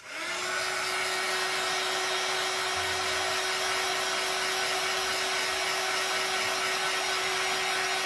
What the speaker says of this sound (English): And I'm going to hit it with the dryer.